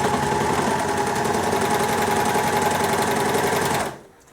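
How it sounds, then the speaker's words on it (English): A sewing machine stitches two ends of elastic together for a stretchy tube skirt, a steady, loud, close mechanical whir that runs evenly and then stops abruptly. "I'm now going to sew the elastic together."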